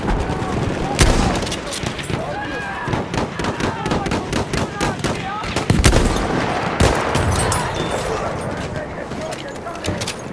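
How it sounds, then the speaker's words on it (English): Rapid bursts of enemy machine gun fire crackle through a Battlefield 1 infantry battle on Cape Helles, dense repeated shots with sharper loud cracks, mixed with battlefield noise and voices talking over it. "Enemy machine gun sighted!"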